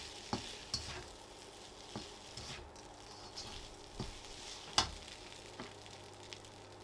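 Special fried rice with egg is stirred in a wok over a soft, steady sizzle, with a series of scraping, clattering strokes at irregular intervals, one sharper clack standing out near the end, all fairly quiet and close.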